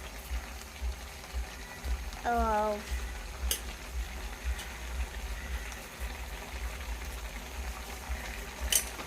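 Crab roast masala with onions bubbles and fries in a pan, a steady low sizzle and simmer with a brief whistling squeal near the start and a couple of sharp clinks.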